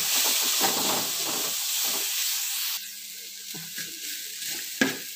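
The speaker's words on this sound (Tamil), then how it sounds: "இதையும் நம்ம ஜஸ்ட் ஒரு நிமிஷம் வதக்கலாம்." Capsicum sautéing in a pan for egg noodles, a loud, close sizzle and hiss that eases partway through, with occasional scraping stirs and a sharp clink near the end.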